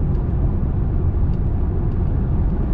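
Inside a Hyundai Ioniq 5 electric car cruising on a highway with driving assist engaged, a steady loud low rumble of road and wind noise fills the cabin with no speech.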